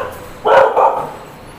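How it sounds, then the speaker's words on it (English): Stray puppies bark in two quick, loud yips close by, a short burst with no talk over it. "Oh my goodness! Look at the puppies."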